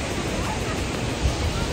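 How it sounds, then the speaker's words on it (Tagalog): Strong rushing water at Daday Falls in Alamada, Cotabato, a steady broadband roar of the waterfall filling the scene, with faint voices beneath it. "Ganda, lakas ng tubig."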